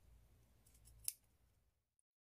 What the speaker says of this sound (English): So I have a little bit more to cut.